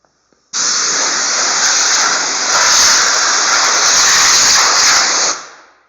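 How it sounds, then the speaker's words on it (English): A Lisle Radiator Genie Pro blasts dust out of a household fan, producing a loud, continuous spraying hiss that starts abruptly and runs for about five seconds before tapering off. "You spray these out once in a while, they'll last longer."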